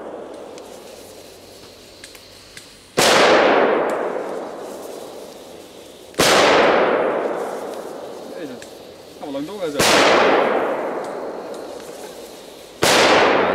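Heavy Polish market firecrackers go off outdoors in four loud, evenly spaced bangs, each with a long rolling echo, while people talk briefly in the gaps.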